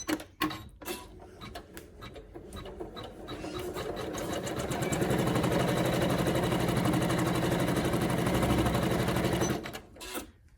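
An embroidery machine sewing a placement stitch starts with a few clicks, then runs in a fast steady mechanical whir and rattle before stopping with a couple of clunks.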